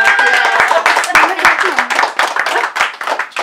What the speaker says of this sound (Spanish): por un aplauso